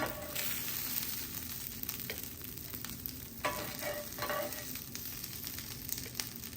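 Gujarati vaghar of spices sizzles in hot oil for stuffed idli, a soft, steady crackling fry with occasional stirring scrapes, fairly quiet and without talk.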